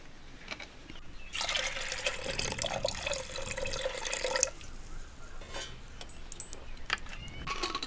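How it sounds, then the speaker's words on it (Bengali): Water pours steadily into a pot with turmeric to cook eggs in a pressure cooker, a close, bright splashing stream that lasts about three seconds, with softer clinks and drips before and after. "পরিমাণ মতো জল দিয়ে দিচ্ছি"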